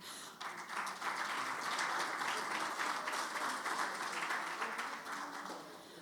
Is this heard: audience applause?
yes